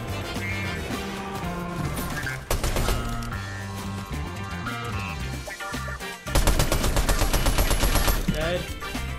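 Rapid automatic gunfire in the video game Fortnite rattles in loud sustained bursts over constant game music and effects, close and dense, with brief pauses between volleys.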